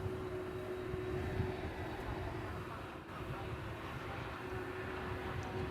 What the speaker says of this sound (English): So this is the daily Auckland-bound flight. It's a 787-9 Dreamliner.